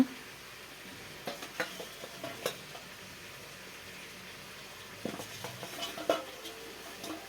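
Pieces of fish going into a simmering Bengali fish curry with cauliflower and potato: a quiet, steady bubbling bed broken by scattered soft plops and clinks from the pan.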